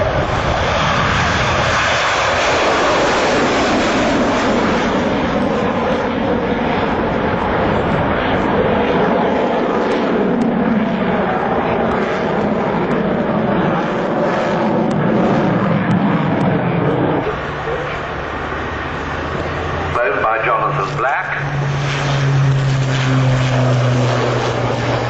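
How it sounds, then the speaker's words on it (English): A Jetstream 41 turboprop airliner flies past at the Farnborough Airshow, its loud, steady propeller drone filling the air for about twenty seconds, swelling and shifting in pitch as it passes, with a lower engine tone emerging near the end. "Jet Stream 41, a major development out of the highly successful Jet Stream 30."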